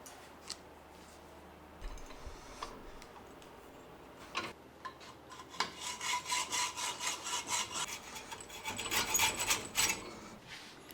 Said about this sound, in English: Did you see how awesome that hacksaw was?